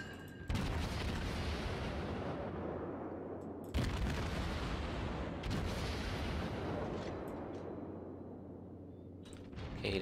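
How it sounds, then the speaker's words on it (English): Warships firing their naval guns in World of Warships, three heavy booming salvos with long rumbling tails that fill the mix, loud and close, with no voices. "looks like the Clemson's also firing"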